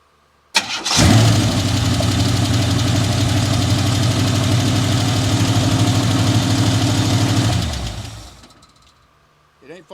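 A Chevrolet El Camino engine cranks and fires, then idles roughly with a loud low rumble and rapid ticking from the lifters and tappets before shutting off and winding down; a brief knock follows in the quiet.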